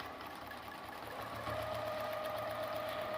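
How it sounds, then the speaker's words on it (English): Longarm quilting machine stitching practice rows at the edge of a large quilt, a steady whirring hum that picks up speed and pitch partway through, close and continuous with no talking. "I'm going to do a little practice stitches here on the side before I get started."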